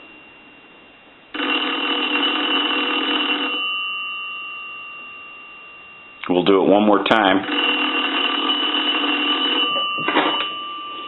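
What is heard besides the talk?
payphone bell ringing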